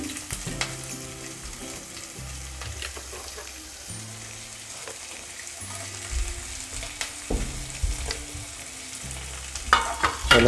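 Onion sautéing in a pan for upma makes a close, steady sizzle broken by repeated scraping stirs and knocks of a spatula against the pan, with no voices.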